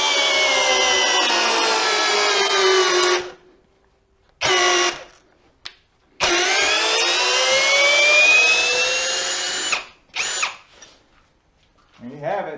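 A Ridgid Max Output hammer drill drives a TimberLok screw in several loud, high-pitched whining bursts that rise in pitch. Each burst is separated by short silences, and the drill is close by.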